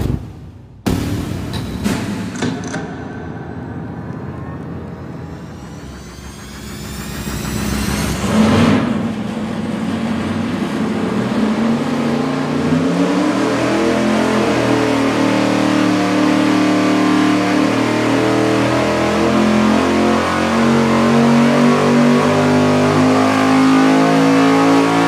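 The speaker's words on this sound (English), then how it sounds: "our first test here is going to be with our good old trusty big block Chevy" A big block Chevy V8 with an oil pan fitted, warmed up and tuned, roars on a dyno after a sharp startup. It sweeps up steadily into a loud, sustained high-rpm wail that holds to the end.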